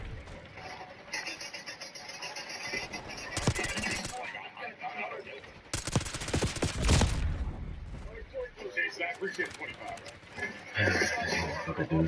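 Gunfire in the shooter Black Ops 6, with loud sharp bursts of automatic fire at two points and quieter mechanical clicks and shots in between, while players chat throughout.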